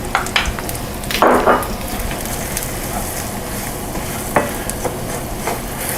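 Flour being stirred into oil and onions for a roux in a pan, with steady soft scraping and faint sizzling throughout, plus a few louder spoon strokes and clanks against the pan.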